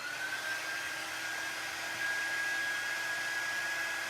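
Hair dryer blowing on wet paint on a tea towel, a steady whirring whoosh with a thin high whine, constant and fairly quiet with one slight step up midway, no speech.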